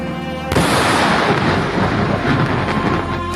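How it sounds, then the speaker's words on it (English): A sudden heavy airstrike blast in Lebanon hits after a brief quiet moment, followed by a loud, sustained rumbling roar and debris noise that fills the rest of the clip, with no speech. "Just a very quick video clip of a number of the airstrikes since Monday, just to show the ferocity."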